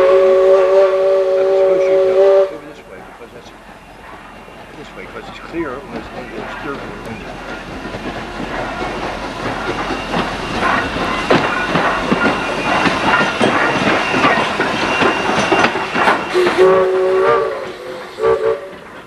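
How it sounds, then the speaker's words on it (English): A Strasburg railroad engine moving along the rails, a steady rumbling, clattering roll that swells and fades over time, with a tonal whistle-like sound at the start and again near the end, and voices talking over it. "Now the engine is going from the front of the train to this back where we were now first, where we were last."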